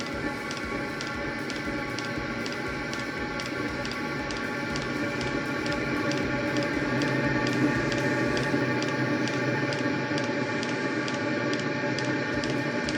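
A Lavaner 2k diesel heater runs in a garage in Canada, its fan and burner giving a steady hum while the fuel pump ticks in an even, regular pulse about twice a second, close and continuous.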